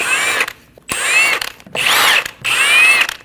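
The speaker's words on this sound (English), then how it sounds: "Using a 17mm socket, remove the 5 lug studs" Power tool with a 17mm socket spinning off the lug studs on a 2012-2022 Volkswagen Passat's rear wheel, four close, loud whirring bursts of roughly half a second to a second each, separated by short pauses, with no talk.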